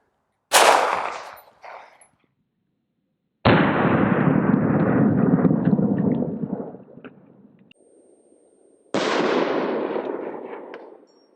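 Two sharp 9mm pistol shots from a Smith & Wesson M&P 9 firing 115 grain Minuteman rounds into lightweight Level IIIA body armor, each a loud crack with a long echoing tail, preceded by a short burst and double snap.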